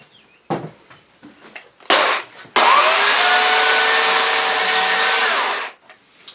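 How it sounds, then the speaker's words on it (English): A belt sander smoothing a carved solid oak trunk runs steadily for about three seconds with a loud, even abrasive whir, preceded by a few short bursts of rubbing and motor noise. "I'm going to move on from the chainsaw to my little belt sander to start cleaning it all up"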